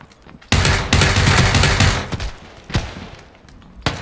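Gunfire in PUBG: a loud, dense burst of rapid shots runs for about a second and a half, then sharp single reports follow, one near the end.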